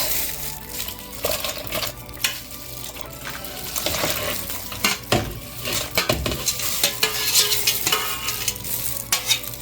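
About two pounds of washed sorrel goes into a pot and is stirred, giving uneven rustling, knocks and clinks against the pot over a continuous watery, sizzling background, close by.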